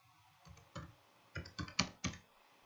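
Someone types a command on a computer keyboard, with a quiet, irregular run of separate key clicks and a few quick clusters, close and alone.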